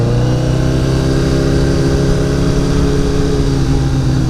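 A motorcycle engine pulls in first gear under throttle, a loud, steady, close-up drone of layered harmonics with no pauses.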